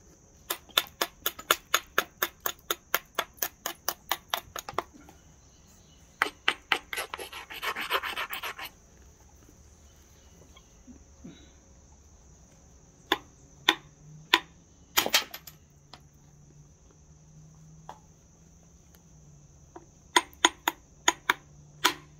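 A piece of chert is thinned by flint knapping: bursts of sharp, rapid clicking and tapping strikes, a short scraping rub as an edge is crushed, then scattered single knocks spaced apart in a quiet room.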